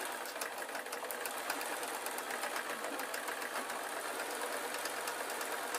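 A sewing machine stitches around the outer edge of a quilt while attaching the backing, giving a fast, even mechanical whirring and rapid needle ticking throughout, fairly faint and steady, with no voices.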